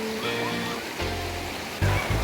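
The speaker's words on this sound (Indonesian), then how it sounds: "kita sudah sampai di sungai teman-teman" A freshwater river flows with a continuous rushing wash, loud and near, while a light music track plays over it.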